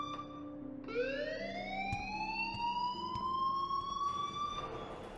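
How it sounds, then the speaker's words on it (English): A fire alarm in the video game Life is Strange wails steadily with a rising electronic siren tone, continuous and prominent over a low background hum. "please turn off that alarm since that's your job."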